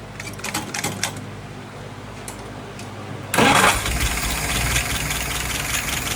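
Light clicks and fiddling sounds give way after about three seconds to an engine firing up following carburetor setup, which then settles into a steady, close, loud idle.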